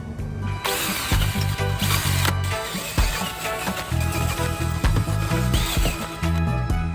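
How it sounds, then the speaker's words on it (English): Power drill pre-drilling bolt holes in an old metal solar arch, loud and close, the motor whining in repeated bursts with brief pauses and ratcheting catches between runs. "next we're gonna pre-drill all of these holes to be slightly wider than the thread bolts"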